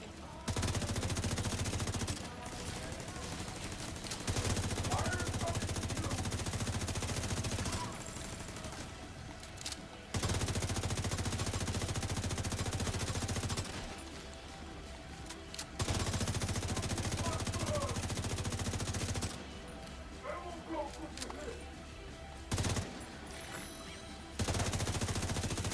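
Sustained automatic gunfire in The Division 2 video game comes in long, dense bursts broken by short pauses, loud and continuous, with faint speech in places.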